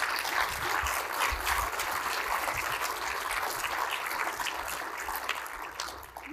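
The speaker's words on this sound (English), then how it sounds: "let's stop for an applause for them" An audience applauding a consultation committee at an Eighth Air Force gathering: steady, dense clapping from a room full of people that holds for several seconds and tapers slightly at the end, with no talk over it.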